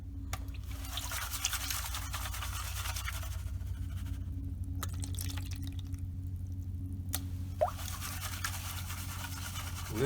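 Fresh, clean water poured off a pan of gold paydirt, a continuous splashing trickle with bright gurgling and a few short pauses, fairly close and with no talking.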